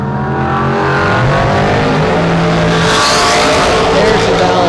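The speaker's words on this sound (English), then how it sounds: "Here comes the dragster." Drag racing cars roar down the strip at Portland International Raceway during a National Open Series event, a loud continuous engine blare with rising revs and tire noise filling the whole stretch.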